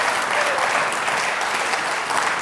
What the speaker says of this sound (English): So another round of applause for Catherine